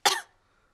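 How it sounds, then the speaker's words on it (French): A cartoon pig's single short, close cough, a burst of breathy rasp that drops off quickly into silence. "Mais regardez ce qui se passe quand je tousse"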